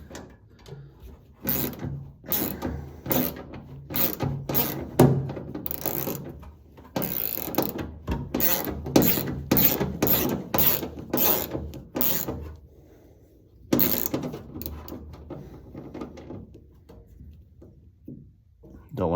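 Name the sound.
driving a self-tapping screw through a Mustang floor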